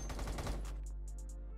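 Rapid bursts of gunfire in the Roblox game Da Hood, loud and dense for the first half second, then fading into sparse, sharper shots and clicks.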